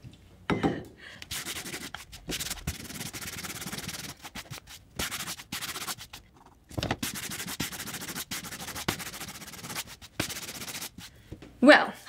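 Hand sanding across a painted MDF board, with rhythmic bursts of gritty rubbing separated by brief pauses, close and fairly loud.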